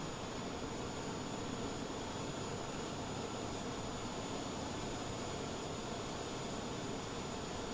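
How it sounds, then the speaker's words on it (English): A steady, loud broadband roar of an airliner auxiliary power unit cooling down in Microsoft Flight Simulator, continuous and unchanging with a faint high whine on top, no voices. "I'm just waiting for the APU to cool down, and then I'm gonna turn off the aircraft's electricity"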